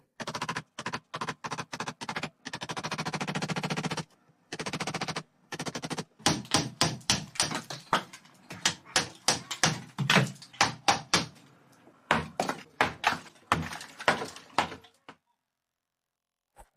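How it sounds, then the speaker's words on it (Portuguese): A hammer drives a chisel to knock out the last piece of a wall while building storage under a staircase, giving a long run of crisp, regular strikes, briefly pausing and then resuming in quicker uneven bursts. "vou usar um formão em vez disso, apenas para remover este último pedacinho"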